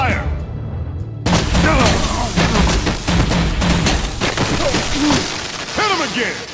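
Video game gunfire and explosive impacts crackle in dense, loud bursts, mixed with excited shouting voices throughout.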